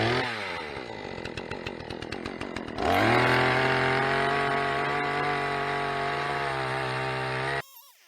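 A cheap chainsaw engine sputters and revs unevenly at first, then settles into a loud, steady high-pitched drone close by before cutting off abruptly near the end.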